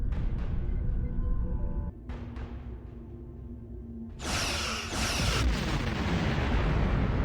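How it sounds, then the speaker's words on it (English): Starship weapons fire in the Star Trek Online space battle, Federation ships against the Undine: a few heavy booming blasts, then a loud, sharp, sustained burst of energy fire that rings out and fills the mix. "Target that ship, and fire all weapons!"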